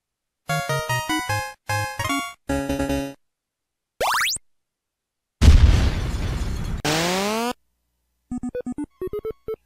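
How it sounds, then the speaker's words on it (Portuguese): Bomberman video game sound effects: short chiptune bleeps and a tone sweep, then a harsh, noisy bomb explosion burst with a falling tail, and finally quick beeps. "O som da bomba"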